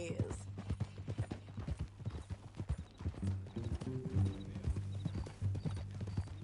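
Horse hooves clip-clopping at a steady walking rhythm in Red Dead Redemption 2, close and continuous, with a low hum and occasional snorts alongside.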